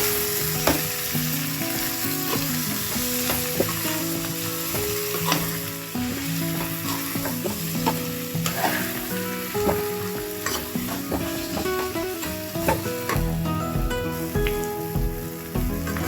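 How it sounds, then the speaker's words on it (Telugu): Chunks of pumpkin dusted with turmeric are stirred in a hot frying pan for a pumpkin-jaggery curry, giving a steady, close sizzle with repeated spoon scrapes and stirring clatter throughout, no voices. "ఒకసారి ఇలా కలిపేసుకుందాం"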